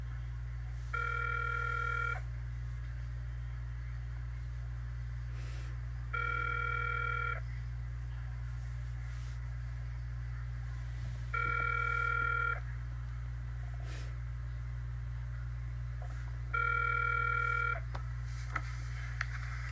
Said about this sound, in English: They still didn't answer the phone.